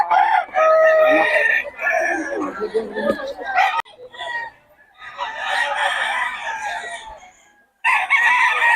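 Roosters crowing loudly and repeatedly at a gamefowl market in Bocaue, with clucking in between and voices mixed in around the calls.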